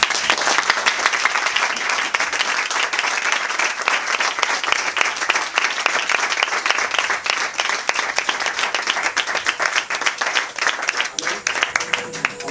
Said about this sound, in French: Je vais demander d'acclamer le Seigneur